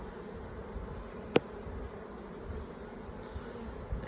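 Honey bees hum softly around a Flow Hive 2 beehive in Orara Valley, a low, steady outdoor drone with one brief sharp tap and no voices.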